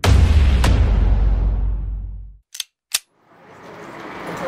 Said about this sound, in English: it was a very interesting experience firing all these famous Soviet pistols